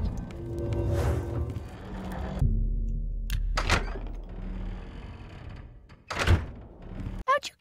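Door in the game Oblivion being unlocked and swung open, heard as a few separate thunks and mechanical clunks with brief sharp clicks, set among speech and game ambience.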